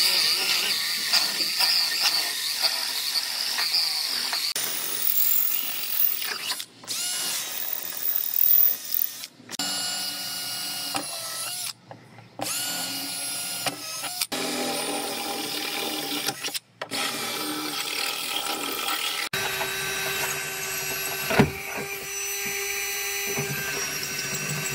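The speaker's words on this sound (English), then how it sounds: "I'm gonna start cutting this back section out" A tool rasps and grinds while cutting out the rear section of a rear-ended Jeep body, loud and close in bursts of varying length, broken by short pauses and ending in a steadier tone.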